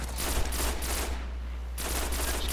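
Shotgun blasts from the video game Destiny, a dense run of loud, booming shots packed close together, pausing briefly in the middle before a fresh burst of firing resumes.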